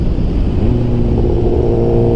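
A 2008 Suzuki GSX-R 1000 motorcycle with a full exhaust revs steadily and loudly close by, a dense continuous engine roar with no talk over it.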